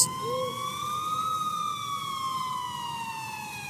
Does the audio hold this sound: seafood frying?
no